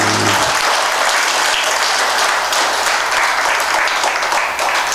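A Buddhist temple Dharma talk audience bursts into loud, dense applause that keeps going at a strong, even level for the full five seconds, with no talking over it.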